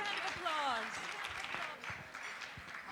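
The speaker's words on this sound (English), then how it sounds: "Everybody, big round of applause." Guests at the Indian American Medical Association of Illinois annual gala applaud, moderately near, while a singing voice and music carry on over and through the clapping.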